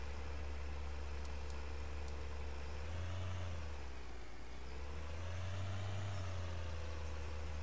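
A farm vehicle engine in Farming Simulator 2013 drones on steadily, a low rumble whose pitch dips and swells as the machine speeds up and eases off, with no voices over it.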